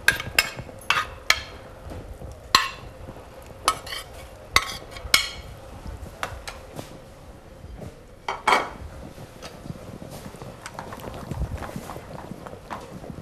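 Olives and sautéed mushrooms being stirred in a pan with wild boar, giving repeated sharp metallic clinks of a utensil against the pan over a low steady sizzle, close and fairly loud with no talking.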